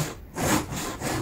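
Hand sawing of wood with a cheap handsaw: rough rasping strokes, two or three back-and-forth passes in quick rhythm, close and fairly loud, with no voices.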